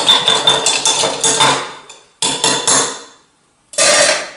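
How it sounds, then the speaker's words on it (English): Palette knife knocked against a hard surface while being cleaned during oil painting, a rapid series of sharp metallic clinks and taps in two bursts with a short pause, then a final burst after a brief silence, close and fairly loud. "clean your palette knife very calmly"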